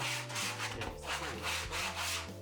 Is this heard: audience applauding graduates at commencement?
no